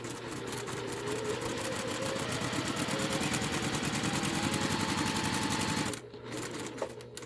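A sewing machine stitches straight across a quilt block in a fast, even, rapid chatter that holds steady for about six seconds, then stops abruptly, leaving a softer mechanical hum.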